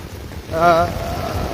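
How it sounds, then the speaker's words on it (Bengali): Heavy rain pours outdoors on a road, a dense, steady hiss throughout, with a voice rising briefly over it partway through. "তুমুল হারে বৃষ্টি চলছে"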